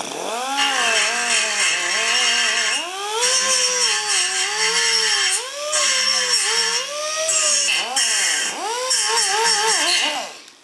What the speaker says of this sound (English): I'm going to use this little bristle wheel.